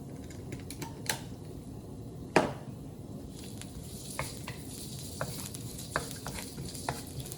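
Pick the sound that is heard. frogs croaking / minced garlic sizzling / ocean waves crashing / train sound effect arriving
minced garlic sizzling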